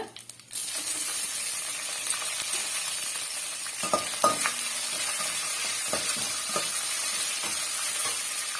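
Six or seven dry red chilies fry in hot oil in a pan, giving a continuous close sizzle punctuated by light taps and clinks of stirring.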